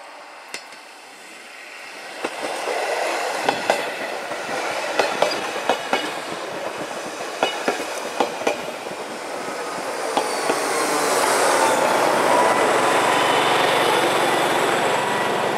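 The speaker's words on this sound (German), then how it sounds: "Nächste Einfahrt, Regionalzug nach Viersch, Brieg, Visp" A Matterhorn Gotthard Bahn regional train running on the Oberwald–Brig line in winter, rumbling closer and growing louder, with irregular clickety-clack wheel beats and a rising roar and hiss as it nears.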